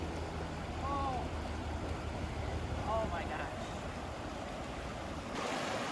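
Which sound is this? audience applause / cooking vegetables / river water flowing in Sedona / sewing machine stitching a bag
river water flowing in Sedona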